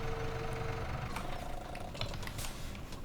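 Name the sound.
compact tractor engine idling in Farming Simulator 2017 video game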